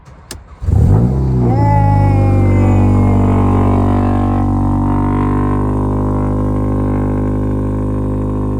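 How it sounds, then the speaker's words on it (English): A Mercedes A45 AMG engine cranks and fires up after sitting for two months, flaring loudly with a rising rev, then settling into a deep, steady idle close to the microphone. "I finally started the car after 2 months."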